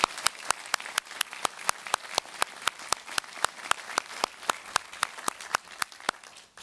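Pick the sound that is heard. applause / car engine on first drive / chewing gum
applause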